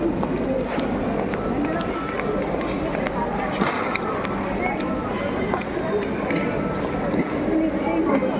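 Crowds of people run along the platform at Sealdah railway station, a dense, loud wash of hurried footsteps and shuffling under constant chatter and voices nearby.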